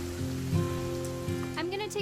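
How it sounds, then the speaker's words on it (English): Steady rainfall in What Remains of Edith Finch, a soft continuous patter under a game soundtrack with tonal music and faint voice-like sounds. "It's gonna rain the whole weekend, isn't it?"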